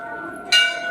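Bell hung high at the entrance of a Hindu temple in Rajasthan, struck once with a bright ringing clang that sustains and fades, following a stretch of quiet hum with no speech.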